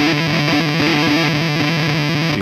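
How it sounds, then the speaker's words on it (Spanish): Guitar played through a Walrus Audio Jupiter Fuzz true bypass pedal, a thick, noisy, saturated fuzz tone chugging in a steady rhythmic riff, loud and up close with no talking. "Este es el Júpiter Fuzz de Walrus Audio, un pedal True Bypass que busca lograr un fuzz abundante y ruidoso."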